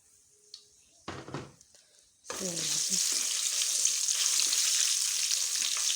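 Whole garam masala spices drop into hot oil left from browning onions, bursting into a loud, constant frying hiss after a few quiet clinks and scrapes of a utensil.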